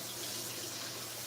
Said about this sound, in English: I clean up my rice